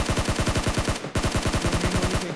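Rapid automatic gunfire in the mobile battle royale game BGMI, loud and close, firing in steady bursts with a brief break midway before resuming.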